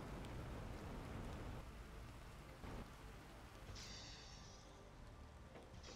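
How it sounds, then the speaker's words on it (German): Rain in the video game Planet Crafter gives a constant dense hiss with faint low rumbles, a brief higher tonal shimmer partway through and no speech. "Regen."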